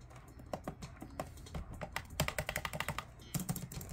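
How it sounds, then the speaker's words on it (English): A PC mouse clicks rapidly and irregularly during Fall Guys gameplay, with crisp close-up clicks in quick bursts and no talking. "listen to that mouse click"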